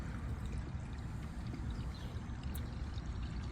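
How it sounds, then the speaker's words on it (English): Liquid fertilizer glugs and trickles as it is poured into a Chapin HydroFeed garden feeder container, a soft, steady splashing stream heard close but quiet, with no voices. "you take your liquid fertilizer and just pour it in."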